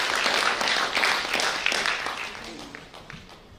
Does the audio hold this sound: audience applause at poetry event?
yes